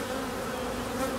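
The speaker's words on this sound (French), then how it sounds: "les ruches bourdonneuses" Honeybees buzzing at the hive, a dense continuous drone filling the air close by, with no talking.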